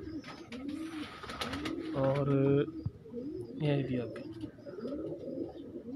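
Pigeons cooing inside a breeder loft, soft repeated coos throughout with a couple of louder calls, while someone talks over them.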